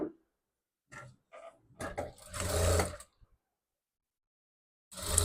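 A sewing machine stitches a small girl's frock in short, separate close bursts of mechanical whirring, with a longer run in the middle and pauses of silence between.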